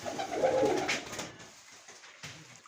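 Pigeons of the Hünkari breed coo in a loft. A low, rolling coo comes up close in the first second over a bed of airy room noise, then fades to quieter rustles and a short sharp knock.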